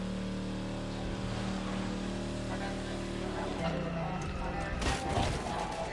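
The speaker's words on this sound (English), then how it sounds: "they had to have heard my engine" A car engine in the racing game The Crew Motorfest revs and roars past for several seconds, rising and falling under steady background noise.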